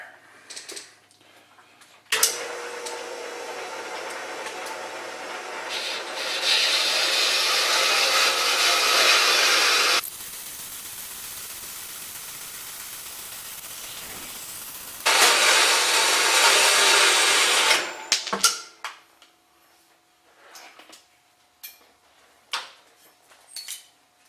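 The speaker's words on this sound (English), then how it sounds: "I can use all of my sphere cups on my new used Highland Park sphere machine." Highland Park sphere machine grinding a stone sphere, a loud steady broadband grinding hiss that comes in two long sustained bursts with a quieter running stretch between them, then stops and leaves faint clicks and handling noises.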